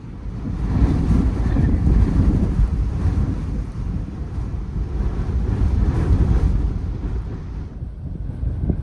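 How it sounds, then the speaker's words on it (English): Relentless, near-constant wind gusts batter the campsite at night while overlanding in Baja, a loud, rough roar that swells and eases without ever stopping, with no voices. "The wind has now gone from gusting occasionally to pretty much non-stop gusts."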